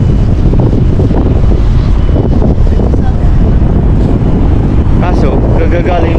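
Strong wind buffets the microphone with constant rumbling gusts, loud and close, with faint voices underneath.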